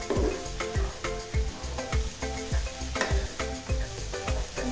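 Shrimp stir-frying with flat beans, potato and radish in a pan, a steady sizzle broken by regular rhythmic scrapes and clinks of a spatula stirring, close and fairly quiet.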